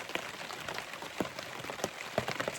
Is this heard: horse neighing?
no